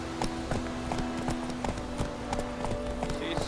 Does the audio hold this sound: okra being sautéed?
no